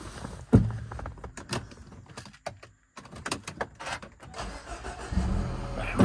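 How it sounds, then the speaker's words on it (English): A 2013 Mini Cooper Countryman S ALL4 automatic: keys jingle and clicks sound before the engine cranks and catches near the end, settling into a steady low rumble close by. "Let me get the keys out of my pocket and we'll start the engine up."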